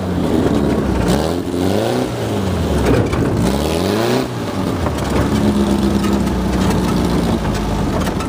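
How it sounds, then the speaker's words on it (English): A rebuilt Mini-T dune buggy revs hard, and its slick tires spin on wet grass. The engine pitch climbs and falls in repeated surges, loud and close, then settles into a steady drone. "Spins pretty good in that wet grass."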